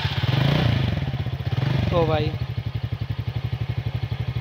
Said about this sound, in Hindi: इसको थोड़ा सा स्टार्ट करो स्कूटर को